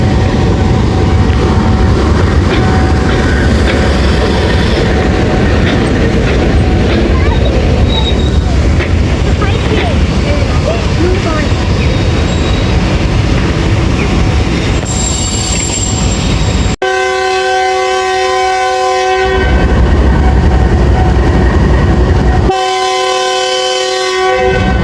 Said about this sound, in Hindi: सफारी ट्रेन का डिपार्चर हो रहा है।